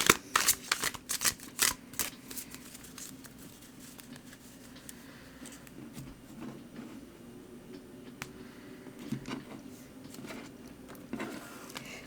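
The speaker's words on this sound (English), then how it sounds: "I'm going to go ahead and start shuffling." Tarot cards are shuffled in quick riffling bursts, busy at first, then softer intermittent shuffles and taps continue close by.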